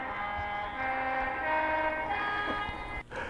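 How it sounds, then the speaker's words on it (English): An O gauge model train runs steadily around a layout with a continuous rolling hum and a sustained horn-like tone; no talking. "Now let's run some trains and see what this is all about."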